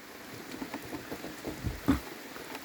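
Rain patters on a camper van, with irregular drops tapping the roof and a few heavier thuds over a soft, steady wash.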